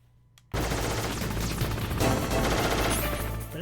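Loud, continuous gunfire from the video game Metal Gear Solid begins abruptly after a brief quiet moment and keeps up as a dense, sustained burst of rapid shots.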